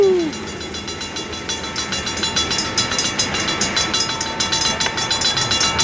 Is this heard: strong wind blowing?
no